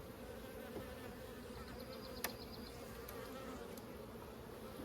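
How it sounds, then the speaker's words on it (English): Honey bees buzz steadily around an open hive during maintenance, a dense continuous drone with a few sharp clicks and taps, no voices. "there's only 4 frames of bees"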